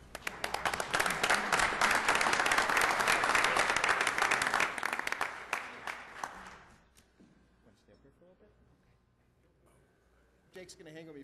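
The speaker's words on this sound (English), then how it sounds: "A round of applause for Jake Lisowski." Audience applause at a city council meeting fills the room for about six seconds, dense and loud, then dies away into quiet murmurs and scattered movement, with a brief rise of noise at the very end.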